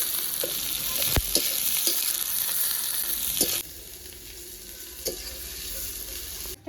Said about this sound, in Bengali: সব কিছু ভালো করে একটু ভেজে নেব।